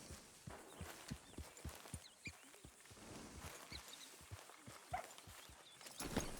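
Horse hooves clip-clopping at a walk in a video game, a quiet, even series of soft thuds over faint background sound.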